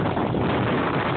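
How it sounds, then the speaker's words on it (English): A stormy gust of wind at sea roars steadily across the microphone, a dense, close, unbroken rush with no voices. "There's a gust coming through."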